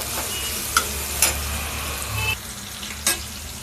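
Bay leaf dropped into hot oil for brown rice vegetable pulao, giving a steady close sizzle and fry hiss with a few clinks of a stirring spoon against the pan, no voices.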